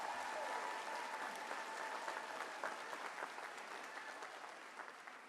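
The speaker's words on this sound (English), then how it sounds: "Give yourselves another round of applause." A commencement ceremony audience applauds in a dense, steady wash of clapping that holds for several seconds and thins slightly toward the end, heard from some distance.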